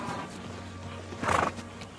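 A horse named as gentle and well-behaved gives a loud, close whinny midway while being ridden, with a steady low hum and faint hoof movement around it.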